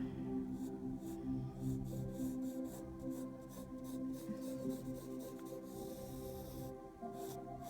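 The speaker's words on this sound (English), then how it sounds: "I'm gonna draw nice straight hair." Pencil or pen strokes drawing straight hair on paper for a portrait, a steady close scratching and rubbing that runs continuously with brief pauses, over a low background hum.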